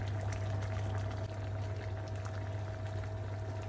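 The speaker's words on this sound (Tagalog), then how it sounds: "Kumukulo na siya." Mung bean stew bubbling at a steady simmer in a pot, a continuous close bubbling texture over a low steady hum of the stove, with no talking.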